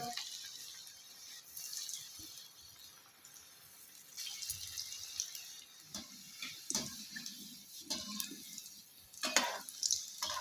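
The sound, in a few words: cutlets frying in oil on low flame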